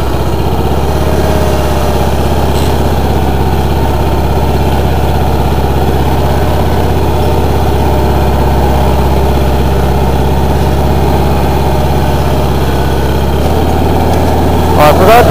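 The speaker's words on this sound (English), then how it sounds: "Maybe I'll see if I can't do a little bit of grading with this while I have it out." Engine of a 2082 machine running steadily while grading with its blade, a continuous low idling drone held at an even level throughout, with a brief louder swell at the very end.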